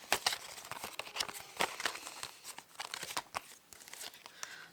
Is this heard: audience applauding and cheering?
no